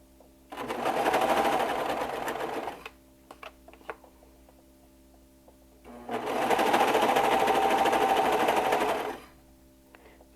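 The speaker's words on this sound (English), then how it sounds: "And I'm going to serge this all the way around." A serger overlock machine stitching around a skirt made from a t-shirt, running in two loud, fast whirring bursts of about three seconds each, separated by a quiet pause filled with small clicks and handling taps.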